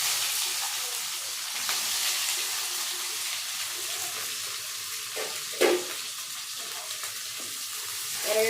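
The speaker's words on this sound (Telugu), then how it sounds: "ఇప్పుడు ఎర్రగడ్డలు వేస్తున్నాం." Onions added to a hot pan of frying ingredients, giving a steady soft sizzle with occasional stirring scrapes and a sharp clink near the middle, fairly close and without talk.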